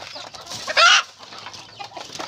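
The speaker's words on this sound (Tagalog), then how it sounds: "Ingay naman ng heto yung kanyang mga manok." Chickens cluck softly nearby, broken by one sharp, loud squawk early on, then scattered quieter clucks.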